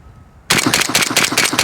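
An M70 rifle fitted with a Delta-tek muzzle device fires a rapid string of shots after a quiet moment, loud and close, each report sharp and evenly spaced in a fast rhythm.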